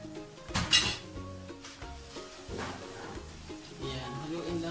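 Shrimp and crabs with chili being stirred in a hot pan, a soft sizzle running under scraping utensil strokes and a few louder clatters of metal on the pan, with continuous background noise.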